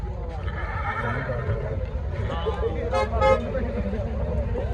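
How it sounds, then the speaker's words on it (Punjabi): A mare whinnies amid a busy outdoor crowd at the Muktsar Sahib Maghi Mela horse fair, its neigh rising briefly over steady chatter and background noise. "ਬਹੁਤ ਹੀ ਸ਼ਾਨਦਾਰ ਘੋੜੀ ਹੈ"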